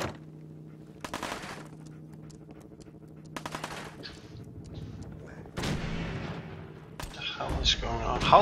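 Bursts of gunfire from the video game Fallout 4, with sharp shots and rattling volleys coming in clusters at moderate loudness over a steady background hum, with a player talking throughout.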